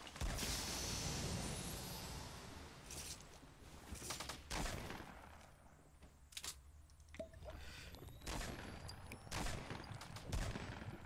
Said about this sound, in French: Il y a trop de tirs, on entend des tirs de partout